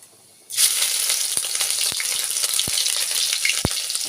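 Ginger and garlic drop into hot oil already seasoned with dried red chilli and asafoetida, setting off a sudden loud, steady sizzle with a few soft clicks of stirring.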